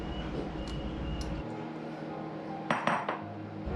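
Sliced bananas go into sweetened coconut milk in a pot, giving a few close, sharp clinks and clatters of utensil against metal over a steady low background hum.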